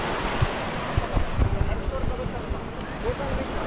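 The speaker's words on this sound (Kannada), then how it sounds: "ಅಲೆಗಳು ನೋಡ್ರಿ." Ocean waves wash steadily onto a beach at Gokarna, a broad continuous roar with wind buffeting the microphone.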